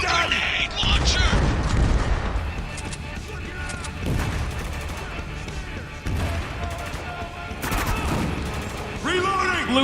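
Video game combat with grenade launcher fire and repeated booming explosions, dense and loud with gunfire mixed in, under intermittent talking.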